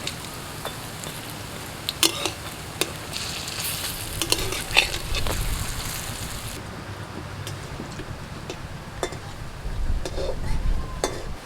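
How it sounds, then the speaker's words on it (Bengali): Pumpkin leaf fritters sizzling in mustard oil in a wok as they are turned, a constant close frying hiss punctuated by sharp scraping clicks of a utensil. "আস্তে আস্তে উল্টে পাল্টে অন্য পিঠগুলো ভেজে নেব"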